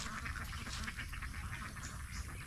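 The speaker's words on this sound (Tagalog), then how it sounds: "yung mga itik natin ay nanginginain dito" Domestic ducks feeding in a field give off a steady, busy chorus of soft quacks and chatter, continuous and fairly distant.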